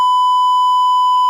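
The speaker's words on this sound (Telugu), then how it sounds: "అక్కడ బీప్ వేశారు" A censorship beep covering a swear word: a single steady, loud pure tone that holds unbroken for just over a second.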